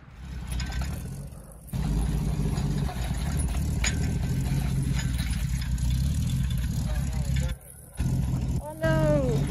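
An old blue truck's engine rumbles steadily at close range as it pushes a car out of soaked, muddy ground, the low drone broken by brief pauses, with voices talking over it.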